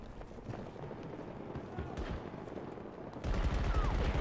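Video game gunfire in Battlefield 2042 crackles in scattered shots at moderate distance, then swells into a louder, denser burst of rapid automatic fire near the end.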